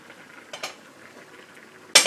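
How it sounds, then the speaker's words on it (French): A utensil stirs tomato sauce, cooked meat and eggplant together in a pan for eggplant parmigiana, making a few soft scrapes and taps, then one sharp, loud clatter of metal at the very end; no talking. "Je vais tout mélanger."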